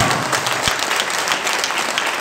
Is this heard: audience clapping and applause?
yes